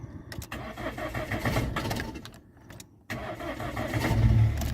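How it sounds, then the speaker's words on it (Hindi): A car engine is started with the ignition key while the clutch is held down: the starter cranks briefly, cuts out, then the engine catches and settles into a steady, close idle. "ये हमारी गाड़ी होगी अब स्टार्ट, देखो।"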